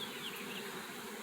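Honeybees hum inside an open hive where drones and worker brood are present, a soft, continuous, even buzzing drone close by for a brief moment.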